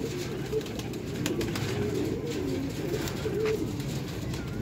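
Flock of about seventy pigeons in a loft setup, with soft overlapping coos rising now and then over a steady low murmur of birds close by.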